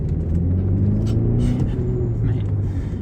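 A BMW X5 40e M Sport plug-in hybrid SUV, weighing 2.2 tons and set to Sport Plus, accelerates with a loud, rising engine drone heard from inside the cabin, while someone briefly speaks.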